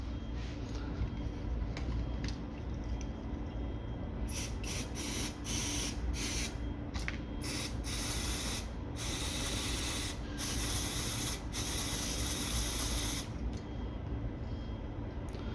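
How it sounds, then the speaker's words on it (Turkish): Cleaning spray hisses into a Kiwi coffee and spice grinder in repeated bursts, some short and some held for a second or two, loud and close against a low background hum, with no talking. "Onun yerine tekrar bu şekilde bir temizleme spreyim var."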